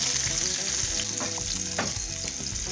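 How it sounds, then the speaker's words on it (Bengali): Chopped onions hiss and sizzle steadily as they fry in hot oil, with loud continuous crackling and a few soft stirring knocks in the pan. "এরপর ওই একই তেলে দিয়ে দিচ্ছি পেঁয়াজ কুচিগুলো।"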